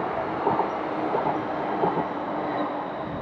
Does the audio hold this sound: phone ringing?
no